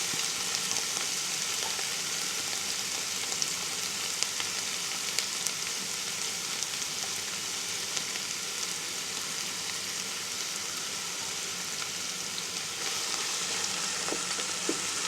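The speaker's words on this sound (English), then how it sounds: "we're going to go ahead and get the garlic, the onion, and the jalapeno in. And let that start working." Garlic, onion and jalapeno sauté in a pot, a steady, even, moderately quiet sizzle that carries on with small crackles and no talking.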